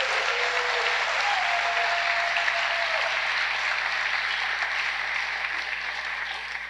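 Sustained applause from an audience fills the space for the University of Michigan solar car team's unveiling, a dense, steady clapping that holds for several seconds before slowly tapering.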